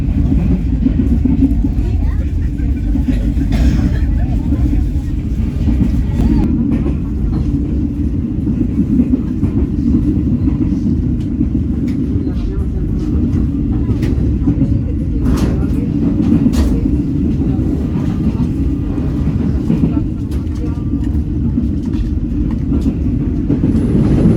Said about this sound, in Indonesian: Perjalanan kereta api Cikuray sudah diberangkatkan dari stasiun Garut.